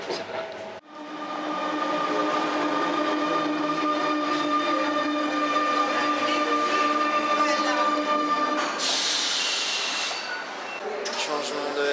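A Paris-area RER commuter train in motion, heard from inside with a continuous loud rumbling roar and steady whining tones, a burst of hissing brakes or air near the end, and voices talking over it.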